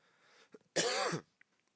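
A single harsh cough, close and loud, follows a faint breath and a few small mouth noises.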